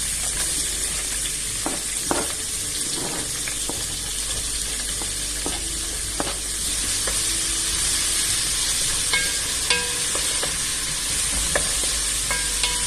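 Onion frying in hot oil for a chicken biryani gives a dense, continuous sizzling hiss with scattered stirring clicks and scrapes, close and steady throughout without speech.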